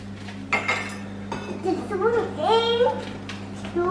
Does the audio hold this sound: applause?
no